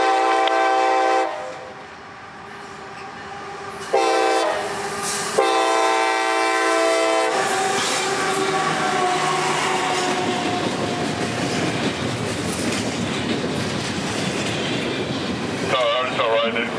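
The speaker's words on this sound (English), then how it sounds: "Calling as M606 out of New Orleans, this one would be led by CSX's RF&P Heritage Unit, number 1836." A CSX freight train, M606, led by RF&P heritage locomotive 1836, sounds several loud air-horn blasts up close, then rolls past with a sustained rumble and rattling wheel clatter.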